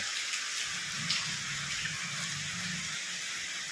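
Rain falls outside a window in a steady, soft, continuous patter, fairly faint and even throughout, with a low hum underneath.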